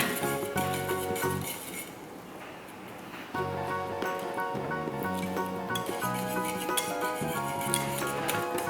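A spoon scrapes and clinks steadily against a pot while hot-process honey soap mixture is stirred with the heat off, the metallic taps repeating over a soft background hum.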